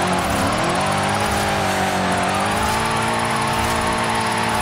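A powerful car's engine revs hard and holds a high, steady whine in a Forza Horizon 5 drift session played on a steering wheel, loud and continuous with shifting pitch and no talking.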